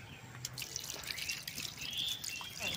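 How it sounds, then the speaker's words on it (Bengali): Water poured into a chicken and sesame curry cooking on the stove, a steady close trickle and splash running for the whole moment with no talking. "জলটা দিলাম আর অল্প একটু জল দিব"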